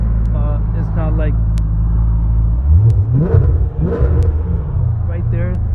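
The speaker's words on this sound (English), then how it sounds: "this right there is probably the best sounding exhaust for the money" A Maserati GranSport's exhaust rumbles at a deep idle, then swells briefly into a couple of throaty revs, heard close under someone talking.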